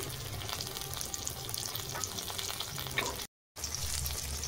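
Slit green chilies with black cumin frying in oil in a pan, a soft continuous sizzle with light crackles, steady and fairly quiet, interrupted by a brief cut near the end.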